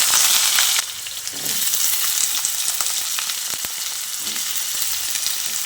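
Soaked, drained potato pieces hit hot oil with dried chillies and fry with a loud, steady hiss and crackle, with occasional stirring clicks, no voices.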